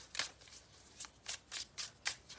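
Tarot cards are shuffled for a reading in a quick series of soft, close riffling flutters, about eight short bursts with brief gaps between them and no talking.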